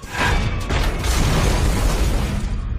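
A big explosion in a trailer for a film about the Stauffenberg assassination attempt, with a sharp onset followed by a loud, rumbling roar that sustains and slowly fades.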